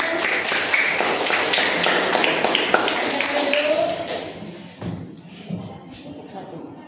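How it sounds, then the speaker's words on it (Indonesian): Class applauding a student group in a classroom, a dense patter of many hands clapping at moderate loudness that thins out after a few seconds, with some shuffling and voices. "Kita beri tepuk tangan."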